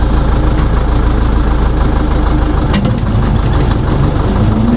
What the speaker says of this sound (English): So we got this thing spinning, got the PTO at 1000 RPM, the implement's working.